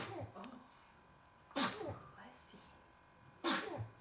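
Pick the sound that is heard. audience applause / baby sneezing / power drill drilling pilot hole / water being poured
baby sneezing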